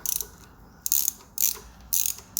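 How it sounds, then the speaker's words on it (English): Small ratchet tightening the three screws on the starter solenoid of an Alfa Romeo 147, heard close up as four separate bursts of crisp ratcheting clicks with short quiet gaps between them. "I use small ratchet set to tighten the screws, 3 screws on the solenoid"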